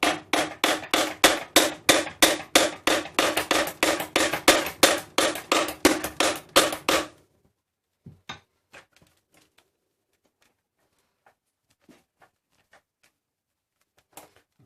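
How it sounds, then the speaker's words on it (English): A hammer knocks a Dyson DC14 vacuum motor out of its housing: a fast, steady run of about twenty sharp, loud metallic blows, then a pause with a few scattered lighter taps and clicks. "the best way to do that is to use the other tool we mentioned earlier,"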